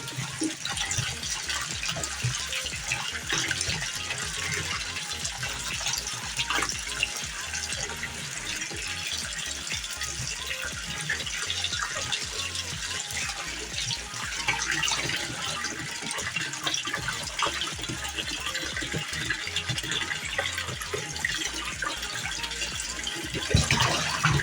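Raw beef for bulalo is rinsed under a running kitchen tap, giving a continuous loud gush and splash of water with sloshing as the meat is handled, steady for the whole stretch with no talking.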